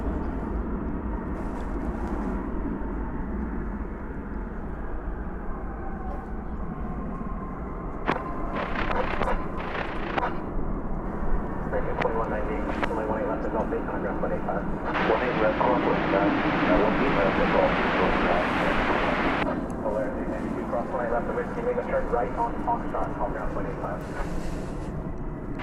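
Airplanes at DFW Airport, including an Airbus A319 departing for Lubbock: distant jet engines rumble and swell into a broad roar that builds and fades, heard under ongoing talk and radio chatter.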